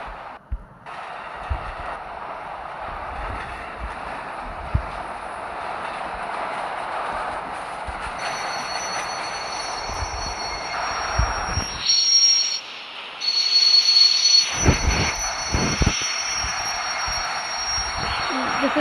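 A high-speed train and subway in a train simulator game rumble along the rails in a continuous, steady drone, with a brief drop partway and a harsher, louder stretch near the end.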